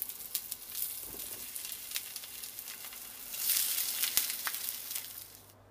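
Fish cakes of fish, chives, eggs and capers sizzle in a pan, a steady fine crackle that swells briefly with a few sharp pops near the middle, close and moderately quiet.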